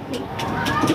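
A racing pigeon hen cooing at a loft after a fun race, a short soft coo heard close, with a murmuring voice nearby.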